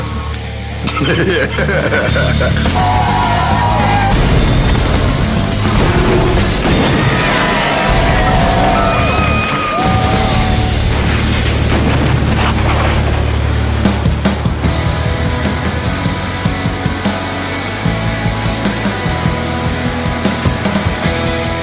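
A house being demolished by heavy machinery, with long stretches of loud crunching, cracking and rumbling debris, engine drone underneath and occasional heavy crashes.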